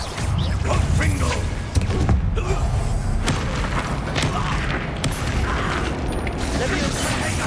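Confringo blast spell firing in Hogwarts Legacy on PS5, heard as loud booming impacts and mechanical clatter layered over dense game combat noise, with no pauses.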